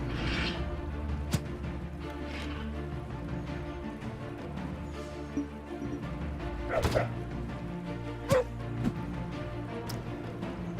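A hellhound dog barks and yelps in the Warlock of Firetop Mountain video game, scattered short barks and whimpers over a steady game soundscape with occasional crashes.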